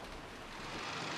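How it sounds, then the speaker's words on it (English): Heavy downpour in a visual novel game: a steady, dense wash of rain noise, loud and continuous with no voices. "The downpour was quite terrific."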